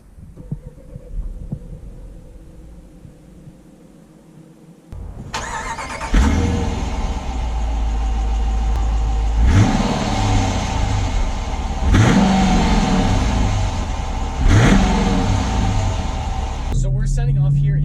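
A 2019 Jeep Grand Cherokee Limited X engine cranks and catches after a few seconds of quiet, then settles into a steady idle and pulls away, revving up through several gear shifts, loud and close.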